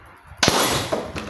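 An air gun shot at about 50 meters strikes a glass target, producing one sharp crack followed by a broad, bright shattering burst that trails off into a tinkling scatter of fragments.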